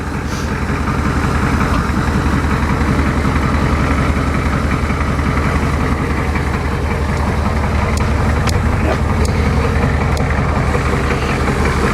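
A Ford diesel engine idles steadily after a winter cold start, a low, continuous rumble with faint rattling that holds level and fills the whole stretch with no talk.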